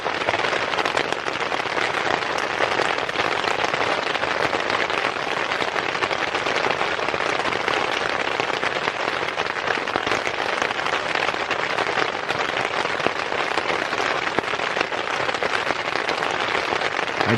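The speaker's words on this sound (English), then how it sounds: "It literally started raining almost as soon as I got back in the tent." Steady heavy rain drums on a backpacking tent during a monsoon, a dense continuous patter with no talk.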